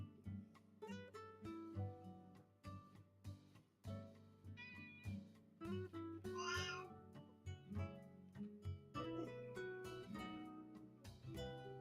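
A cat being held in one arm gives repeated close meows with rising and falling pitch, one louder drawn-out cry mid-way, and no talking.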